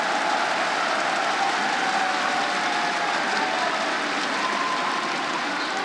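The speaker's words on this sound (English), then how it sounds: "And just listen to that crowd." A large esports arena crowd roars steadily at a Rainbow Six Pro League grand final between DarkZero and Natus Vincere, a dense, loud, continuous wash of cheering with no talk over it.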